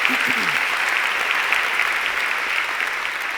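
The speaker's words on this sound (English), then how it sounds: "go ahead and applaud it" Audience applause at a conference fills the room steadily, a dense wash of many hands clapping at moderate loudness throughout, with a brief low voice murmuring near the start.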